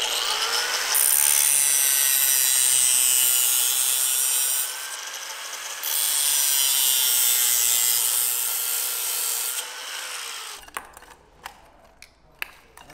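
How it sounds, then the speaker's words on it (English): A power saw cuts open a motorcycle headlight bezel housing on a Sportster build, with a loud grinding, rasping cut in two long passes broken by a brief pause, then tapering into scattered clicks and knocks. "so I'm probably just gonna cut this open so I can get rid of this headlight bezel"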